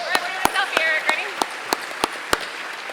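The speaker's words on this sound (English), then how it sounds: "Please give them all one more round of applause." Sparse, sharp claps from a small group greet scholarship recipients at a celebration, roughly a dozen separate slaps spaced across the moment, with faint voices murmuring underneath.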